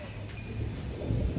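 Royal Teddy pigeons cooing in a low, soft rolling murmur, fairly close, steady throughout with no talk over it.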